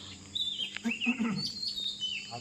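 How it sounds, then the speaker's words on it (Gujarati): Birds chirp and whistle repeatedly in bright, varied calls at a rural bus stand, fairly close and clear over a low background hum, with no talk. "શું કેવા પક્ષીઓ બોલે છે"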